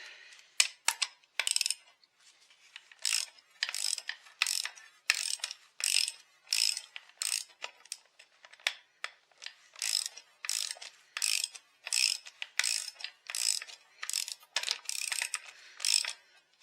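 A socket ratchet clicks in rapid bursts while turning a fastener on a Husqvarna 380CD chainsaw under rebuild, giving a steady close run of repeated sharp pawl clicks with short pauses between strokes.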